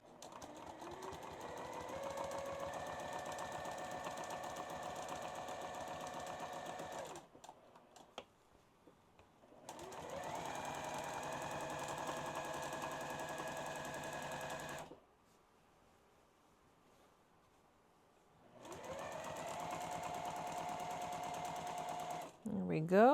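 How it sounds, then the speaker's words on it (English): A sewing machine quilts a quilt block in three sustained bursts of fast, even stitching, each separated by a short quiet pause. The machine runs close and steady during each burst. "really make sure that your quilt is not hanging off of your table while you're quilting."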